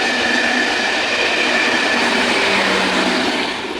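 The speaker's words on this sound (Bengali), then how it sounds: "এই ট্রেনটা একটু অন্যরকম তাই জন্য তুলছি ট্রেনটা পুরো অন্যরকম ট্রেন" A passing train heard close and loud, a continuous rumbling roar of rolling wagons with faint wheel squeal running throughout, no voices.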